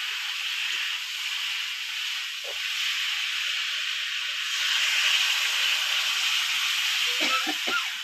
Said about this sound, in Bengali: এইবারে এর মধ্যে জল দিয়ে দেবো